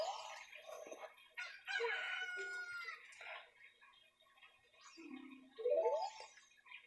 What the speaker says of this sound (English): Yay, a chicken. Except it's not called a chicken.